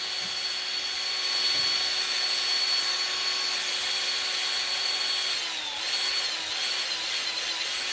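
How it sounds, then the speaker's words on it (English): A small electric motor spins steadily at a constant high pitch, loud and close, with a brief wobble in speed partway through before settling again; no one talks over it. "Powerful little motor."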